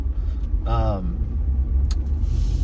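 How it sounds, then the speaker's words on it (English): A 392 HEMI Jeep with a 3-inch lift rolls on cold, oversized 37-inch tires, giving a steady low rumble and road roar throughout, with a brief whining harmonic sweep partway through. "Bigger tires are a little bit louder and a little bit"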